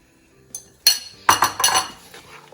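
Egg mix is poured and stirred into a chickpea mix in a bowl, giving a few sharp clinks and scrapes of a utensil against the dish, close and uneven, with no talking.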